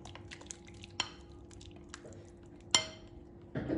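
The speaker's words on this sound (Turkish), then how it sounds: "Patatesli yumurtalı karışımı tavaya aktarıyorum" Potato and egg omelette mixture being poured from a bowl into a lightly oiled frying pan: soft, wet sloshing with a few sharp clinks of utensil against cookware, fairly quiet and close.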